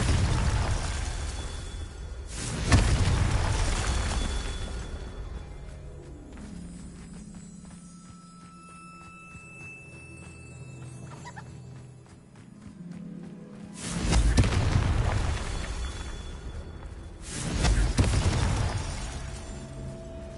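In Hogwarts Legacy, the Confringo spell goes off as heavy booming blasts with a rumbling burst near the start and two more near the end, and quieter magical shimmer and tones in between.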